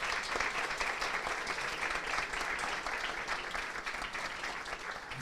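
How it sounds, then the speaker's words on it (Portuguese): An audience at a law week event applauds nominated legal representatives, steady dense clapping from a crowd filling the room and holding level throughout without a break. "dessemos uma salva de palmas para esses nominados gestores"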